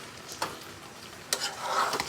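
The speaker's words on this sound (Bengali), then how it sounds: "একবার নাড়িয়ে দিলাম জাস্ট এইভাবে।" Mango pickle (aamer achar) stirred in a hot pan: a couple of scraping strokes stand out over a steady, soft sizzle, close and moderately loud, with no talking.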